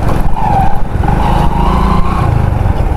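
A motorcycle engine runs loud and close at a race event in Pokhara, a rough, throaty drone that holds steady over a few seconds.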